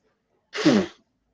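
A single short human sneeze outdoors during yard work, close and fairly loud, alone against silence.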